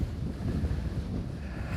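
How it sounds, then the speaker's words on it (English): Strong wind gusts across an open dry lake bed, buffeting the microphone with a loud, continuous low roar that swells and dips for about two seconds. "it's windy. That is windy."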